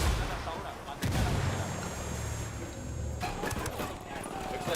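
A grenade blast booms in the shooter game Ghost Recon Wildlands, followed by a rumbling aftermath and a short burst of gunfire, loud and close.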